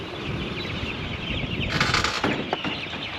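Chickens cluck steadily close by on a cattle farm over a noisy outdoor background, with a brief louder burst of flapping or scuffling midway.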